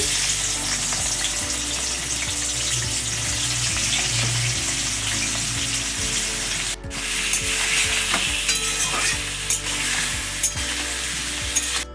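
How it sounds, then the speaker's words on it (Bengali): Raw jackfruit pieces fry in the oil left from frying potatoes, making a loud continuous sizzle with scattered spatula scrapes and knocks, broken by one short dip partway through. "আলু ভাজার তেলেই এঁচড় হালকা ভেজে নিচ্ছি"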